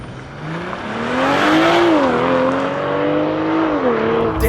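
A 2024 BMW M440i xDrive Gran Coupe with a 3-liter turbocharged inline-six launches hard under launch control, its engine note climbing loud and close through rising revs with a brief dip at a gear change.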